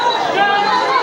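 A crowd of people gathered at night chatters, a dense, steady wash of overlapping voices that stays fairly loud throughout.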